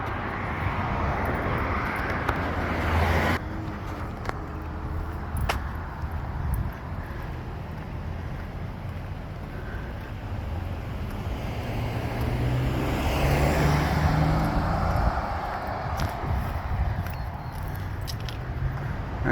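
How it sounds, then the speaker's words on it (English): Cars passing on a suburban street near a quiet neighborhood in Aliso Viejo, a steady broad road roar that swells and fades as vehicles go by, loudest around the middle, with no talking. "when these cars go by"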